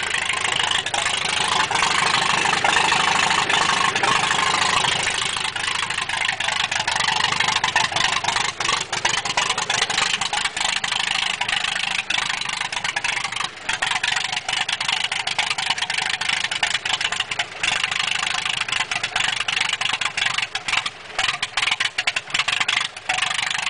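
A Farmall tractor engine runs steadily on its own after getting spark, a constant mid-pitched mechanical drone that stays loud and close for the whole stretch with no voices over it.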